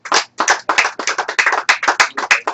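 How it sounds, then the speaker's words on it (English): A comedy club audience applauds near the microphone: a dense, uneven patter of hand claps from a small crowd, with no voices. "Give yourself a round of applause."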